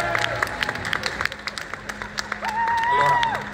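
A crowd claps and cheers in a short burst of applause, with brief whistles and voices rising over the noise.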